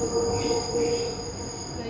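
Chennai underground metro train running, a steady rumble with a sustained metallic squeal and high whine, loud and enclosed.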